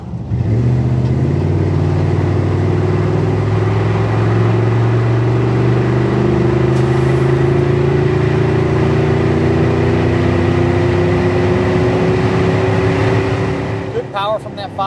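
A 1991 Chevrolet K1500 pickup with a 5.7 V8 pulls under throttle, its engine droning loud and close as the pitch climbs steadily through a long gear, then eases off near the end as a voice begins.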